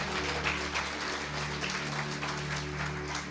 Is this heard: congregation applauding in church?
yes